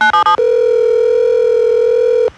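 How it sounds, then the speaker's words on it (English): A telephone dial tone plays loud and steady for about two seconds before a number is dialed, preceded by a few short tone bursts, with no talking. "I'm just about to dial the suspect's number now."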